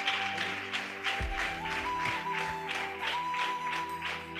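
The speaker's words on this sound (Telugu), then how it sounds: "చప్పట్లు కొట్టండి ఒకసారి." A church congregation claps in a steady, repeated rhythm over sustained keyboard music, the claps moderately close and even.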